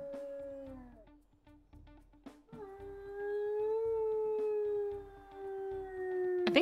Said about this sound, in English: I think those are identical howls.